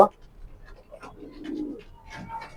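A checker pied pigeon hen and other pigeons give soft, low coos, close by and intermittent among faint scattered rustles and clicks.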